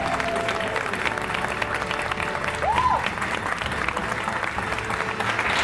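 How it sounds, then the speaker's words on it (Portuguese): Applause from an audience at the finale of a Brazilian reality show, a dense steady wash of clapping with crowd noise throughout, and a brief rising tonal sound partway through. "Salva de palmas para o juiz de fora."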